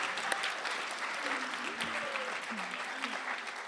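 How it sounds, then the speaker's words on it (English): A high school audience gives a round of applause at a Catholic school event, steady clapping from many people with voices calling out faintly over it. "let's give them another round of applause here on Open Door Policy"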